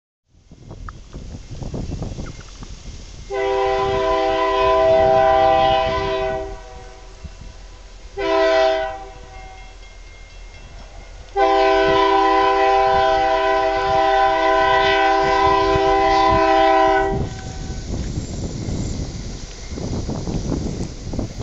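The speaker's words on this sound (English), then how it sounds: "The train was instead pulled by two vintage diesel engines" Loud diesel locomotive horn blasts in long sustained chords, one short blast between them, over the rumble of the CP Heritage train pulled by two vintage diesel locomotives, and wind.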